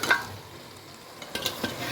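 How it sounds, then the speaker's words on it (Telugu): Country chicken goes into a pan of frying masala, giving a low steady sizzle that swells briefly near the end with a few stirring scrapes; no voices. "మసాలా బాగా వేగిన తర్వాత ఇందులో చికెన్ యాడ్ చేసుకోవాలండి."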